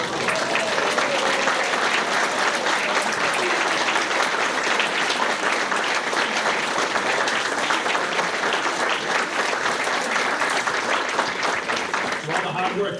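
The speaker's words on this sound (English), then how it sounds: "give you all a round of applause" Scholarship recipients rise as a community audience at an Elks lodge ceremony breaks into long, steady applause, a thick continuous patter of many hands with faint voices mixed in.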